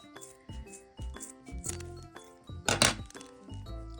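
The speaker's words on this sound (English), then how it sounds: "these 4 ropes, and we're just going to cut that there. Cut it pretty close to the top." Scissors snip through macrame cord during a wristlet project, giving a few close crisp cuts with soft handling sounds between them.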